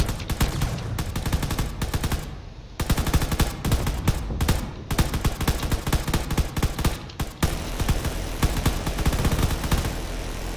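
Loud, dense gunfire from a voxel drone-battle video game with battleships rattles almost without pause, rapid machine-gun bursts stacked over heavy low rumble, with only brief gaps.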